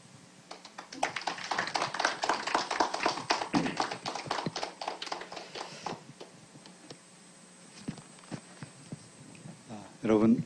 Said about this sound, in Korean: 이 시간 안인석 교수님 나오실 때 우리 마음 모아서 박수로 환영해 주시면 감사하겠습니다